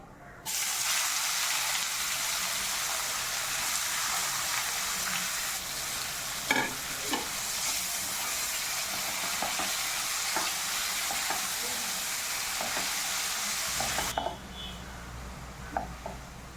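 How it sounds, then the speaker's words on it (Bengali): Chopped onion frying in hot oil with cumin seeds, a loud continuous sizzling hiss with occasional stirring scrapes that runs for a long stretch, then cuts off abruptly near the end, leaving a quiet low hum. "পেঁয়াজটাকে আমি একদম লাল লাল করে ভেজে নিয়েছি"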